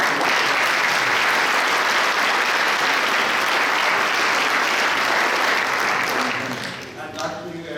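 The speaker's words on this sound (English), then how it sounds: "Now let's give him a round of applause" A gala opera audience bursts into dense, sustained applause that stays loud for several seconds, then tapers off near the end as a voice starts speaking.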